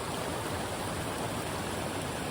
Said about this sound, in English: Good water moving through there.